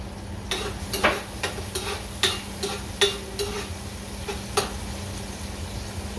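Chopped onion sizzles in a pan at the start of a hassa curry, with a metal spoon scraping and clinking against the pan every second or so over a steady quiet frying hiss.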